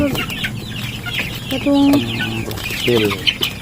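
Chickens clucking in a busy farmyard, several birds overlapping with one louder, drawn-out call midway, over steady background noise.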